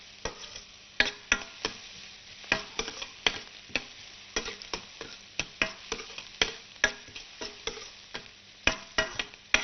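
Onions softening in a pan for lentil soup, a faint background sizzle broken by sharp, regular scraping clicks of a utensil stirring roughly every half second, with no talk.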